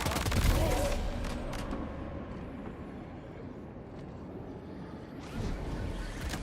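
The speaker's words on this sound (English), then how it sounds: "The enemy heard a gunshot." A gunshot in the video game Death Stranding 2 rings out loud at the start, with a crack and a rumbling tail fading under game ambience, then another burst of noise near the end.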